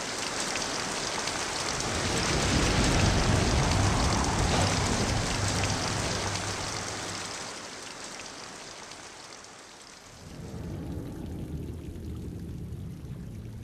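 Heavy rain and wind sound effect, a dense rushing downpour that swells loudly, eases off, then returns as a softer steady patter near the end, with no voices.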